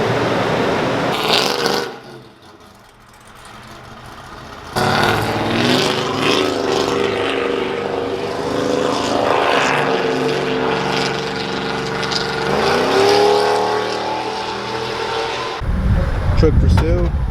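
A truck's engine revs hard and pulls away fast, a loud sustained roar climbing in pitch through several surges, with a brief lull near the start and a heavy low burst at the end; voices are mixed in.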